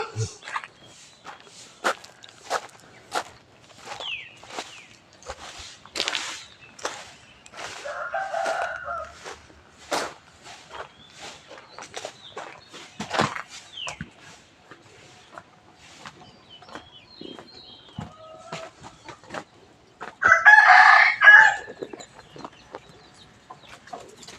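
Chickens cluck intermittently among scattered footsteps and rustling, with a louder burst of bird calling near the end; fairly quiet, outdoor farmyard feel.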